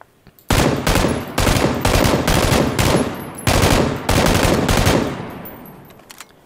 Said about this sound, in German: Das haut schon ein paar Runden raus, Leute, das Gewehr